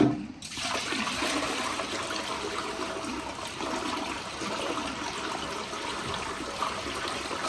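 Dirty water pours steadily out of a Namco Husky Scooter carpet extractor being dumped, a continuous gushing splash and trickle that starts abruptly and runs evenly throughout, close by with no talking.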